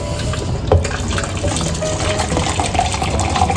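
Steady rush of hot water pouring and splashing into a dish with stock for roast chicken and potatoes, continuous and fairly close, with a brief clink near the start.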